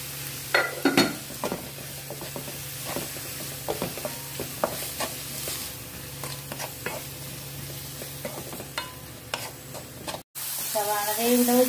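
Onions sauté with salt in a pan for a Malabar chicken vindaloo, giving a steady sizzle broken by repeated clinks and scrapes of a spoon against the pan. The sound cuts off briefly near the end, then returns brighter.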